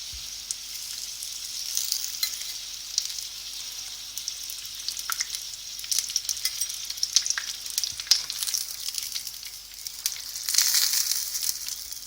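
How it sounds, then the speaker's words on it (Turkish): Raw börek pastries deep-frying in hot oil give a steady, close sizzle with fine crackling bubbles, swelling briefly louder near the end, with no voices over it. "Evet çiğ böreklerimizin her tarafı kızardı."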